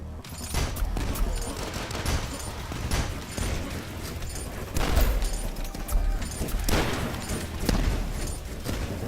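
Rapid bursts of gunfire and booming explosions from the shooter game Dusk, dense and continuous, with repeated heavy blasts layered over constant firing, loud and close with no talking.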